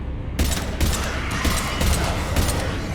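Rapid gunfire crackles through a Mass Effect 3 firefight, loud and close, with dense bursts of shots pounding almost without pause across the whole stretch.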